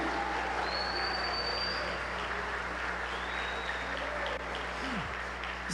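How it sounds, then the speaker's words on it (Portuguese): Sustained applause from a large crowd at a church service fills the space evenly, a dense wash of clapping that continues without a break. "Se você for maluco por Jesus, será que você pode aplaudir a ele e dizer assim: muito obrigado, eu consegui,"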